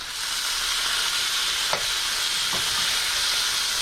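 A pork chop's fat cap sears in a hot pan, giving a constant bright sizzle and crackle with a few sharp pops as tongs press it down.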